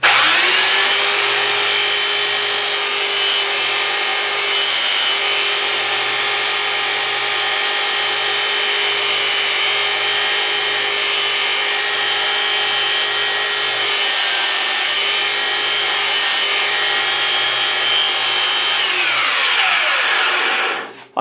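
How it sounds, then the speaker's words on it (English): Wood being power sanded with 80 grit sandpaper, a loud steady high-pitched whine running continuously for about twenty seconds, then winding down at the end, with no talk. "So let's get to it here, and let's just sand these down a bit."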